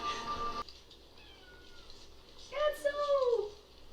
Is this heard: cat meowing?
yes